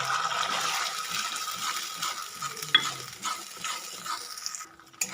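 Ground tomato paste with ginger, cumin and dried and green chillies sautéed in a pan, giving a steady close sizzle and frying hiss with scraping stir strokes throughout.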